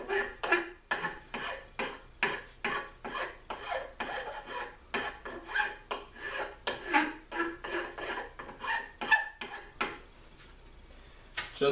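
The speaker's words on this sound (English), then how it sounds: "I'm using 60 grit sandpaper and this file here" Rhythmic rasping strokes of a hand file on the wood of a Lyman Great Plains pistol kit, about two strokes per second, close and scratchy, pausing briefly near the end.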